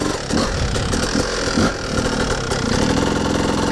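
A two-stroke dirt bike engine idles in gear with the clutch released, a loud, close, continuous ringing burble with slight unsteady pulsing and no talk.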